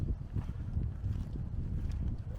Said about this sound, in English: Apologies for the wind, it's a very windy evening